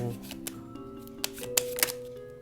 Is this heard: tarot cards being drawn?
yes